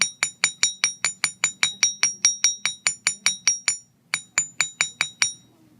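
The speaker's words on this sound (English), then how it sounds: "when you're needing to hammer the middle, kind of hold your fingers like this and hammer between" Wire for a handmade ear cuff or ring is struck on a metal block with a small hammer, about two dozen sharp, ringing metallic taps at an even quick rhythm, a brief pause, then several more, close and loud with no talking.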